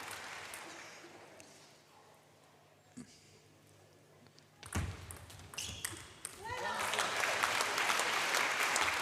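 Clapping from the crowd at a table tennis Champions League Final Four match between Tarnobrzeg and Metz swells in the second half after quieter play with a ball tap, commentary running over it.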